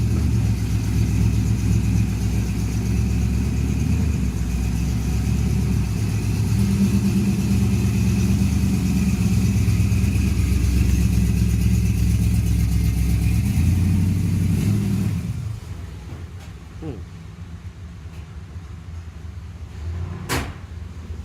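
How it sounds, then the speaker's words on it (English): A 1966 Chevy C10 panel truck engine runs and revs steadily, then the sound drops away as it moves off, leaving quieter background with a few faint knocks. "here comes that Chevy C10 panel, 66 Chevy C10"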